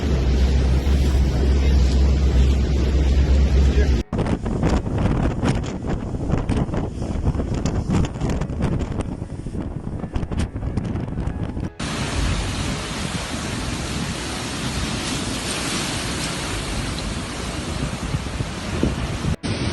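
Storm wind roars across the Black Sea seafront at Sochi as huge waves sweep in, a loud, continuous broadband rush with heavy wind buffeting on the microphone and no speech.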